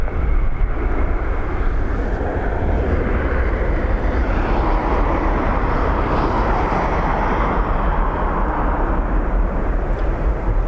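A jet airliner lands at Dublin Airport on a windy day, its loud, broad engine roar filling the whole stretch and swelling slightly as it passes close by.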